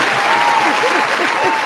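A round of applause from a studio audience, steady and fairly loud clapping filling the whole moment, with faint voices underneath.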